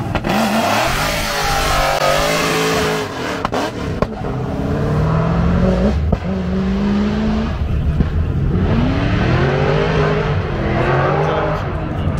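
A line of cars at the Japfest track revs and accelerates past one after another in rising and falling engine sweeps, loud and fairly close, with crowd noise and talking throughout.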